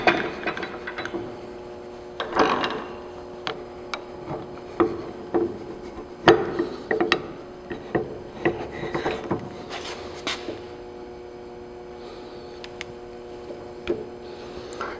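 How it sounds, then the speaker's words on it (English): A six-inch-wide roller works across a big panel, giving a run of uneven mechanical clicks, knocks and rubbing scrapes at irregular intervals, some louder and closer than others. "This is 6 inch wide roller."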